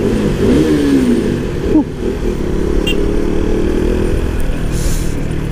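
A KTM Duke 250 motorcycle engine revs up and down, loud and close, with a steady rumble underneath throughout.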